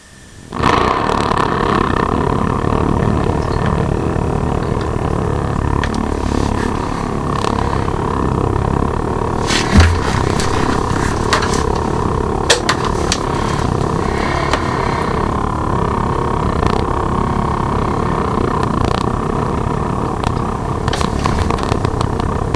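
A portable tent gas heater burns on its minimum setting, giving a steady, loud, close roar with a broad rushing hiss and faint crackles running unbroken throughout, with no talking.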